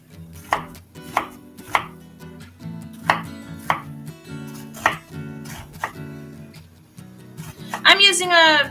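A knife chopping a sweet onion on a cutting board, crisp evenly spaced chops near the mic, a final quick run of cuts at the end.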